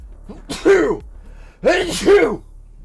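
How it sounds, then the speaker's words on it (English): Close, loud sneezes: a single one, a short pause, then a quick double sneeze. "It's illegal to sneeze on the radio."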